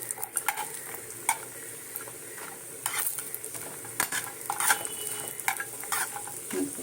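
Bori lentil dumplings fry in hot oil in a pan with a steady crackling sizzle, broken up by the scrape and clink of a spatula stirring them, close by and with no voices.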